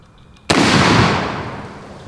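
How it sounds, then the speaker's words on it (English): A black powder rifle firing a 500-grain lead bullet at an old ammo can outdoors, one loud, close, booming shot that cuts off quiet and fades in a long rumbling tail. "Let's just fire the first shot at that old ammo can."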